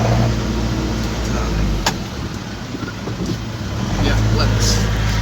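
Steady road traffic on a busy highway in Thailand between Phuket and Bangkok, a continuous low rumble of car and bus engines that swells and eases, with a brief knock partway through.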